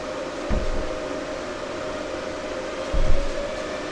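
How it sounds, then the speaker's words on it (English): Case fans in crypto mining rigs inside a shed drone with a steady airy whir and a constant hum, with a couple of brief low thumps and no voices. "fans in there ramping up and stuff"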